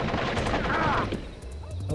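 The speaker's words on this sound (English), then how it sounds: "he kept firing as he went down" Enemy gunfire in the stealth video game Splinter Cell: Pandora Tomorrow: a dense, loud burst of rapid shots for about a second, then thinning into a quieter tail of scattered reports.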